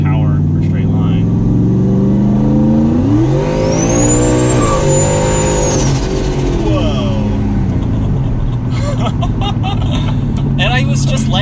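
A 1,000 HP turbocharged Ford Mustang GT with a solid rear axle rises in pitch as it accelerates, turbo whistle climbing over the engine roar heard from inside the car, with people talking.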